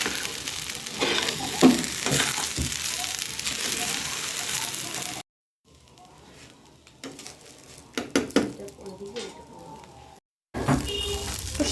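Soaked rice being fried in a pan for mixed vegetable biryani gives a steady sizzle with occasional stirring and utensil scrapes, broken by two brief silent gaps, close and moderately loud.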